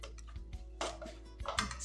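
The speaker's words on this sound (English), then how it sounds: "Yes, you need to stir very well." Spoon clinking and scraping against a pot while meat filling for pizza topping is stirred, a few sharp close metallic taps and scrapes over faint background hum.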